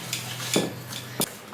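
Shredded coconut being stirred into dry ingredients in a bowl, a few short scraping clinks of a utensil against the bowl over a quiet background.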